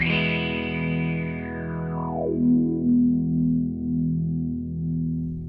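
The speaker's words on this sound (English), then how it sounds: "I'll play a chord and then sweep it so you can hear what it's doing" A distorted electric guitar chord rings out while a KO Amps Interstellar Burst filter pedal sweep glides its tone downward from bright to deep and bassy, then sustains with a wobbling effect.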